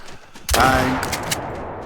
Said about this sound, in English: Turkeys, quick shot, shotgun.